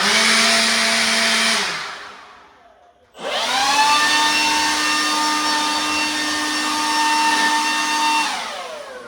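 Cordless leaf blower, a DeWalt 20V or Makita 18V model, whines loudly and steadily indoors, cuts off, then spins back up to a sustained high-pitched roar with strong motor tones for several seconds.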